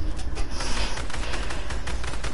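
Rapid video game gunfire, dense overlapping shots in a continuous loud fusillade across the whole stretch, with no talk over it.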